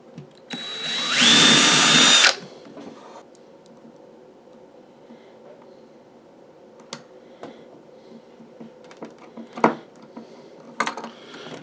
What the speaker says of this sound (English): I'll mark and drill that once I've got these two started